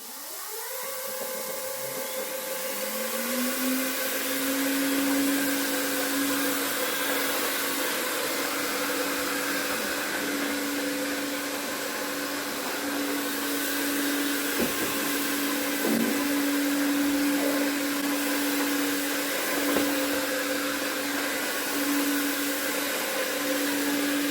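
An i-mop floor scrubber motor spins up, then holds a steady, loud whirring whine with a constant tone for over twenty seconds, close by and without talk.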